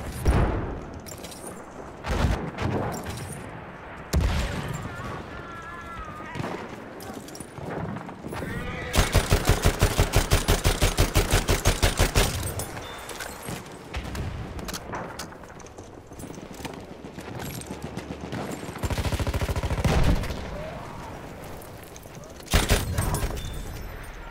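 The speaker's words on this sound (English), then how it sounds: "I heard those shots." Gunfire and battlefield chaos in the World War I shooter Battlefield 1, with a dense burst of rapid shots in the middle amid explosions, hoof clatter and a voice talking.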